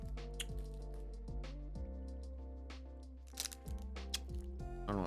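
A Jolly Rancher hard candy is worked in the mouth with wet, sticky clicks and small cracks repeating close to the mic, alone without talk.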